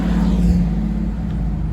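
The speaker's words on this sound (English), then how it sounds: "That was a cool car." A car passes by on a Philadelphia street in the early morning, a steady loud engine rumble and road noise that holds throughout with no voices.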